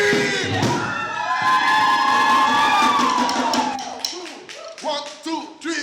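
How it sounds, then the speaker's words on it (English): An audience at an artist talk screams and cheers together, a loud sustained crowd roar that swells for several seconds and then breaks into scattered shouts and claps. "Somebody, anybody, everybody, scream!"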